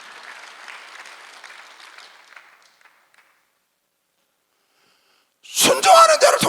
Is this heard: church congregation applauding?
yes